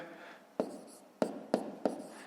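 A pen writes numbers by hand while a math problem is worked out, making four short, distinct scratching strokes at close range, with soft speech faintly in the background.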